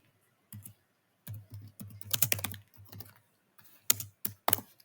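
Typing on a computer keyboard while entering Python code comes in close, uneven bursts of key clicks, with short pauses between runs and a few sharper single strokes near the end.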